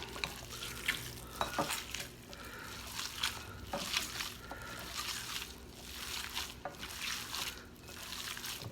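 A spoon works through seasoned smoked coney sauce for sloppy joes in soft, irregular stirring strokes with light wet squelches, quiet and close, with no talking.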